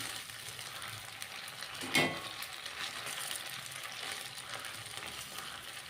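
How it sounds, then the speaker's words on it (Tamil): Cauliflower chilli pieces deep fry in hot oil, a faint, steady sizzle with one brief louder burst of bubbling partway through, close and quiet with no voices. "காலிஃப்ளவர் சில்லியை நல்லா பொரித்து எடுக்கிறோம்"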